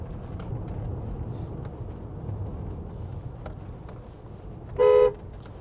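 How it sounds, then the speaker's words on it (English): A single short, loud horn blast from a 2021 Ford Transit Custom 2.0 EcoBlue van sounds near the end, standing out over a low steady road rumble. "wow, that's a loud horn"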